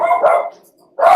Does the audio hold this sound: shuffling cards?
no